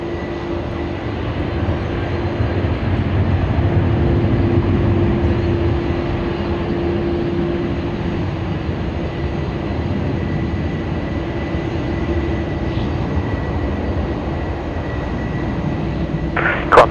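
Jetstar 840, a passenger airliner, landing at Sydney Airport: a steady, broad engine roar that holds at an even level throughout, with a faint tonal whine riding on top and a brief sharp click near the end.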